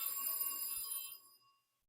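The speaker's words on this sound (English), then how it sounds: "phone's ringing." A telephone rings with a bright, shrill bell-like tone that sustains and then fades to silence over about a second and a half, heard alone and fairly close.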